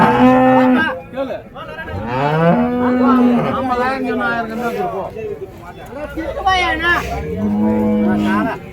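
Native-breed cows at the Orappam cattle market low loudly and repeatedly, long drawn moos overlapping one another close by, with a busy market murmur underneath.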